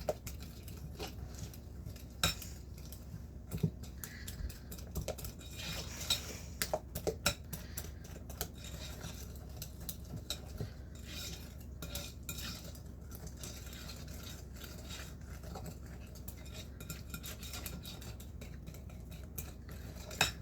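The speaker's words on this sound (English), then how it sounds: "Give it a good whisk." A whisk mixes pecan pie filling in a bowl, with fast, light metallic clinks and scrapes repeating steadily, faint and close, with no talking.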